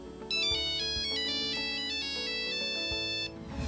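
Classic Nokia mobile phone ringtone, the old brick-style handset, plays a bright electronic melody of stepped beeping tones, loud and close, with no voices over it.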